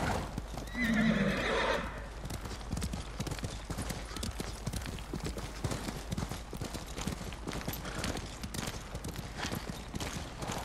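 A horse in the game Ghost of Tsushima whinnies loudly near the start, then its hooves clip-clop in a quick, steady rhythm throughout as it gallops along.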